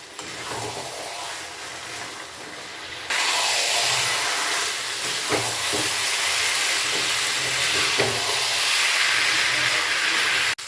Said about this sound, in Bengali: এই সময় আমি সয়াবিন আর আলু দিয়ে দেবো। দিয়ে আবারও ভালো করে কষে নেব।